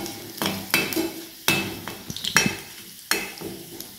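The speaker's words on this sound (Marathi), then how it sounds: "लसूण लाल होईपर्यंत भाजून घ्यायचे थोडेसे।" Chopped garlic and curry leaves fry in a hot pan for upma, with bursts of crackling sizzle and spoon scrapes coming in sharp waves against the pan, close and fairly loud, no voices.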